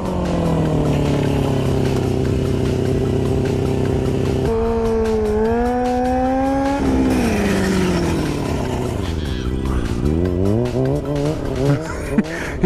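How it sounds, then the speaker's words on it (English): A motorcycle being ridden hard, as in looping a bike, its engine revving continuously and loudly with pitch swooping up and down through repeated throttle changes, close and sustained throughout with no talking. "dy Bristow, aka Cody and Stuff on Instagram, showing us how it's done on that real bike."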